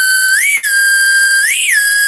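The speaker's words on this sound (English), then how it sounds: "The whistle pop." Whistle pop noisemaker blown twice in quick succession, each a loud, close, piercing tone that rises and bends, with a short gap between the two.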